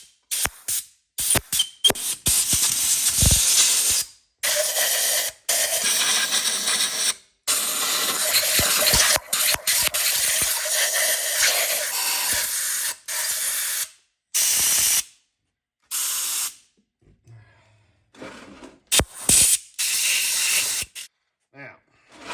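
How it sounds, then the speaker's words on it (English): Air blower blasting a cylinder head during engine head prep, repeated short bursts of loud hissing air separated by silent gaps, with some mechanical clatter. "Take your air blower."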